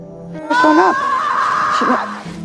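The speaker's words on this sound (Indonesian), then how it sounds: "Tiba-tiba saja mereka mendengar suara teriakan dari Tara dari atas bukit" A woman screams from atop a hill in a horror film, a loud, sustained, wavering shriek lasting nearly two seconds over a faint background tone.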